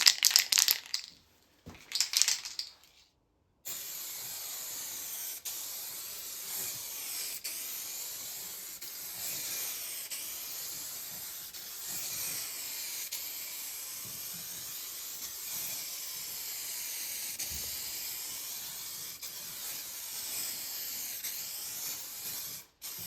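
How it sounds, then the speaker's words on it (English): Aerosol clear coat spray can applied to a pinball playfield: a steady, close, continuous hiss of spray running for about twenty seconds after a few short bursts, with no talk. "These cans have a pretty good spray pattern to them."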